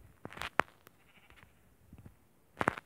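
Sheep on a farm with pens for cows, sheep and hens, bleating in a few short calls: two near bleats early and a closer burst near the end, over a quiet background.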